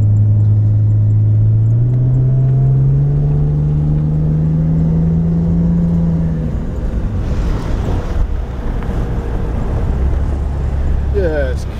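Car engine revving up and accelerating on hard-packed beach sand in New Zealand, rising in pitch over several seconds, then giving way to steady wind and surf-like roar with a brief voice near the end.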